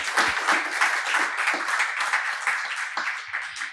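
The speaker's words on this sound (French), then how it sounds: "Je vais l'applaudir." An audience applauds after a presentation at a young-business prize event, dense steady clapping filling the room throughout with no talk over it.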